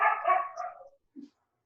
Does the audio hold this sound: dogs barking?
yes